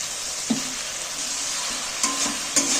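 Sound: spice paste sizzling and being stirred in a pan

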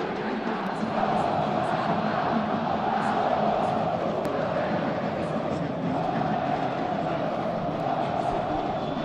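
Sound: football fans making deafening noise in stadium

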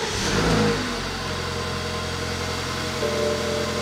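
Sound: car engine cold start

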